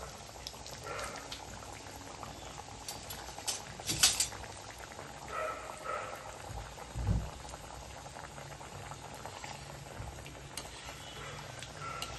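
A continuous crackle and sizzle of coriander fritters (kothimbir vadi) frying in hot oil, close up, with a few louder bubbling bursts and clinks along the way.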